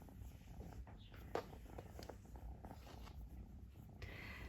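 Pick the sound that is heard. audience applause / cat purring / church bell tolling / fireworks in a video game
cat purring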